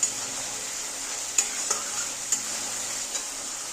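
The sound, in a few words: stirring and frying spice paste for curry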